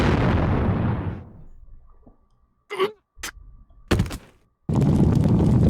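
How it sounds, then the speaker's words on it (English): A deafening explosion sound effect opens with a loud, deep boom that rumbles and fades away. Brief sharp thuds follow, then another heavy burst of noise. "there was a deafening explosion."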